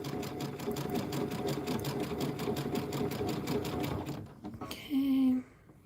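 A machine embroidery unit stitches a holiday rope bowl in the hoop, a rapid, even mechanical chatter that stops near the end, followed by a short beep.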